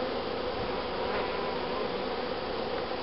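A dense swarm of honeybees hums steadily and close during a bee package installation, an unbroken buzzing drone with no talking.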